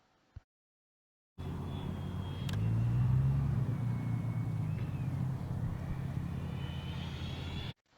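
An RC Freewing MiG-29 Fulcrum jet on its landing approach, throttling back. It gives a steady, fairly loud roar with a thin whine that eases slightly, starting abruptly after a short quiet moment and cutting off near the end.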